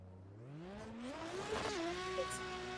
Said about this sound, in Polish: Já conseguiu ouvir o ronco do motor